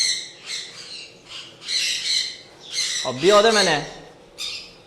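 Newly arrived blue pet birds squawk loudly and close by in repeated harsh bursts, one longer raspy call standing out, while a person speaks briefly.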